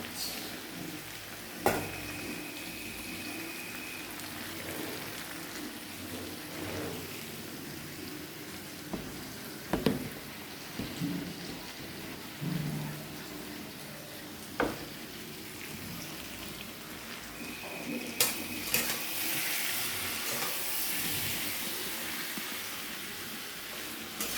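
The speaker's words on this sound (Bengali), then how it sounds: "পটলটাকে ভেজে নিয়েছি, আলুটাও ভেজে নিয়েছি, দিয়ে মশলা দিয়েছি, একটুখানি কষানো হোক" Fried pointed gourd and potato sauté with spices in a pan, giving a steady low sizzle broken by a few sharp clinks and scrapes of a spatula, with no talking.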